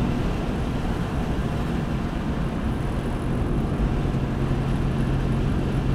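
Car cruising in fifth gear at 70 km/h, a steady low engine drone and road rumble inside the cabin, continuous and moderately loud with no talk.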